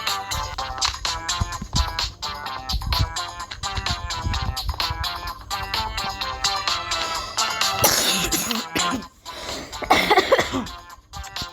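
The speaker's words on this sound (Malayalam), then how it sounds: "എനിക്ക് ചുമയായതുകൊണ്ടാണ് ഡിസ്റ്റർബൻസ് എനിക്ക് തോന്നുന്നത്" Someone coughing indoors in a few harsh bursts near the end, over a steady tonal music-like background that runs throughout.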